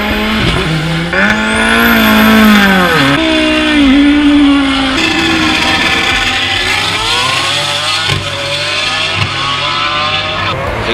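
A roughly 700-horsepower touring car climbs the Rechberg hillclimb course, its loud engine revving hard and rising and falling in pitch through gear changes as it roars past close by.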